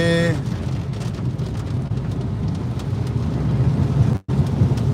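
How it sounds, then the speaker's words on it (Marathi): Heavy rain pours down in a rural village with a loud, dense, continuous roar and deep rumbling that suggests thunder, close and unbroken until a brief dropout near the end; no talking. "कधी एवढा भयान पाऊस आजचा म्हणजे एवढ्या चार दिवसापासून चालू आहे"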